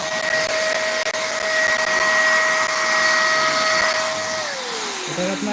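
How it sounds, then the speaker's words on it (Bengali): The motor of an electric paint spray gun running: a loud, steady, close whine with a constant tone that drops in pitch toward the end as the motor slows down. "এটা কিন্তু এই এখন চালু হয়ে গেছে মোটরটা"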